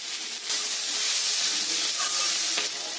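Fried soybeans and potatoes being stir-fried with spices in a pan, with a loud, bright, steady sizzle and a few stirring scrapes, up close and without speech.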